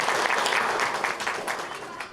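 A crowd at the Dadasaheb Phalke International Film Festival 2017 gives loud, dense applause to welcome guests, clapping steadily and then easing off slightly toward the end, with a voice speaking over it.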